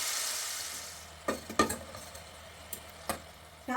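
Meatballs fry in a pan for Tunisian pasta, with a steady soft sizzle broken by several scraping knocks of a utensil against the pan as they are placed and turned.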